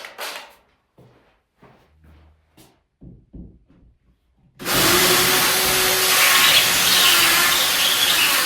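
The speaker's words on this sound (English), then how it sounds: "Putting in a bigger drill piece now for the side that needs the wall plug." Power drill bores into a wall for a wall plug, a loud, steady, close whine that starts abruptly partway through and runs continuously to the end, after a stretch of quiet clicks and small handling noises.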